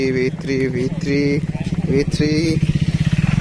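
Motorcycle engines on a large Sunday group ride of about twenty-one bikes, a close idling rumble with revving pulses while someone talks over the engine noise.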